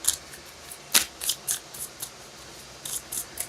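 Tarot cards being shuffled by hand in a quiet room, a series of short crisp riffling bursts spaced irregularly, one sharper snap near the start, close and moderately loud with no talking.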